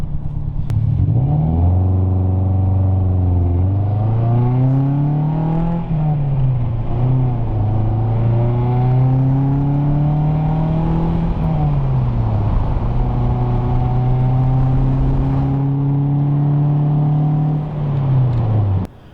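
A 2002 Toyota Celica engine fitted with a short ram air intake revs repeatedly, climbing and falling in pitch through several throttle blips, loud and close with a steady rumble between.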